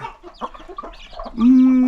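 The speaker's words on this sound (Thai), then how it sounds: "ดูแล้วดูแปลกไหมไก่ชุดนี้เนี่ย" Young chickens about six weeks old cluck and peep in a Thai farm pen, a scatter of short soft calls followed by one loud sustained squawk near the end.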